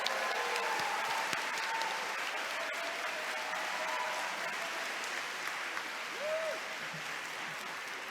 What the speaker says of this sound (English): please join me in the round of applause for your loved ones in the audience today.